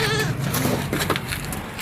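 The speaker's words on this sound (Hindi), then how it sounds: "एक ये बकरी है" A goat on a home farm bleats nearby in a short, wavering cry that fills the moment, with rough background noise around it.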